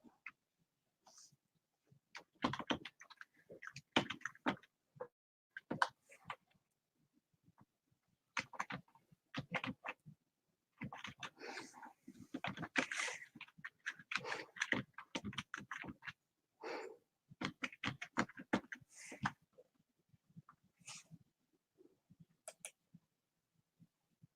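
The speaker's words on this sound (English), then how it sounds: "I be typing and don't nothing be coming up." Typing on a computer keyboard while sending an email: quiet, irregular bursts of clicking keys that stop and start across the whole stretch, with short pauses between runs and no talking.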